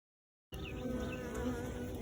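A dense, steady drone of many honey bees buzzing together in a newly combined hive, close and continuous, starting abruptly after a moment of silence.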